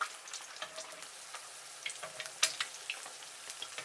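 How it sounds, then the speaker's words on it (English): Four eggs fry in hot oil in a pan over high heat, giving a soft continuous sizzle with scattered sharp pops and crackles, close and quiet with no talk. "Fry 4 eggs."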